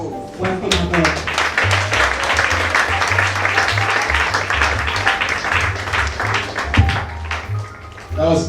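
An audience at a cabin crew fair claps in sustained, dense applause over a low musical backing, with a voice speaking through parts of it.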